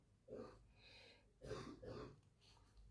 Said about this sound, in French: Ah, mon fils qui tousse.